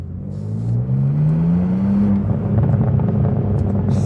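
A 2024 BMW M2 on its stock exhaust pulls hard through tight bends, the engine note rising steadily and then holding a loud, close drone from inside the car.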